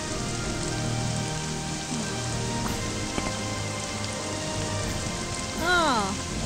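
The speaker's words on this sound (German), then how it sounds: "Und es regnet." Steady rain patters over a surface throughout in the video game Morrowind, with a few scattered clicks and a brief warbling electronic tone near the end.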